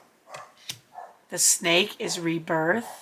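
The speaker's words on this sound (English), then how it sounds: "Sorry if you hear my dog barking in the background every time." A pet dog barks in the background of a home room, a few yips and barks coming through while a person speaks over them.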